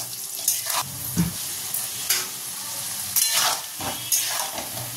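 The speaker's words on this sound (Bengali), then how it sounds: "আলুগুলোকে ভালো করে লাল লাল করে ভেজে নিয়ে তুলে নেব।" Small half-boiled potatoes fry in hot oil in a wok, a continuous close sizzle broken by repeated scraping stirs of a spatula against the pan.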